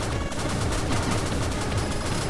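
Rapid machine gun fire from the video game Blaster Master Zero, a dense, loud, continuous stream of shots with no break and no talking.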